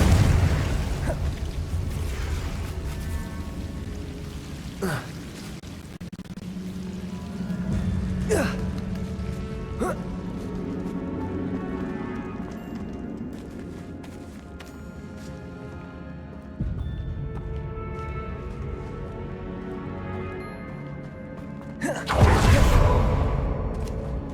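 Booming fiery blasts from the Confringo explosion spell in Hogwarts Legacy, several bursts spread across the stretch with a loud final eruption near the end, over a continuous low game ambience and music.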